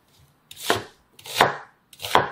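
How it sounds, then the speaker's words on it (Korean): An onion chopped with a kitchen knife into chunks for blending into kimchi seasoning: three separate, loud, close thuds on a cutting board with short gaps between them and no voices. "믹서기에 갈기 편한 크기로 썰어주시면 돼요."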